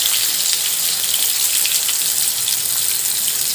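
Potatoes for a chicken curry frying in hot oil, a dense, steady hiss of bubbling and spitting fat that carries on evenly throughout.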